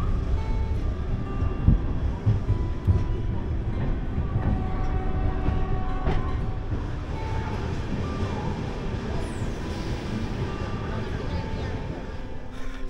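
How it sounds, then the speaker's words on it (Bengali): A passenger train from Kolkata toward Brahmapur runs steadily, heard from on board as a continuous low rumble with rattles and occasional clanks, with faint voices in the background. "ট্রেনে উঠে পড়া যাক"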